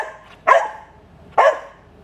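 A black Belgian Malinois barks twice on command, each bark a sharp, loud, close single woof spaced about a second apart, with quiet between them.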